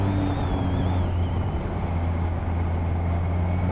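Supercharged 2020 Kawasaki ZH2 motorcycle being ridden, a steady loud engine drone with a low hum and a rising whine, continuous and close throughout with no talking.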